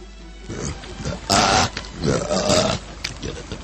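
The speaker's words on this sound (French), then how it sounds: "Ce sont des rots, commissaire, comme quelqu'un qui rote." Two loud, guttural belches rumble out in quick succession, close by, with a short pause between them.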